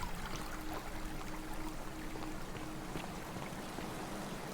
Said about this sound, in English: I don't know about those waterfalls.